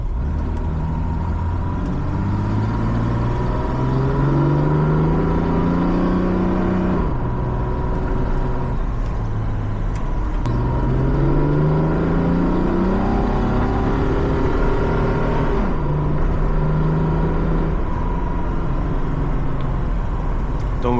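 A 1960s Mercedes 230 SL W113 engine pulls steadily while driving, loud and continuous, with rising tones as it accelerates through the gears and brief drops at each shift.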